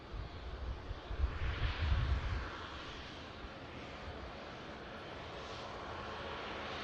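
A SunExpress Airbus A350 airliner arriving from Antalya taxis in at Manchester Airport, its engines a steady distant roar swelling briefly then settling under light wind noise.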